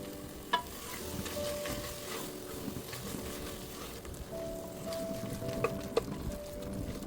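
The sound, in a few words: stirring biryani gravy with coriander and mint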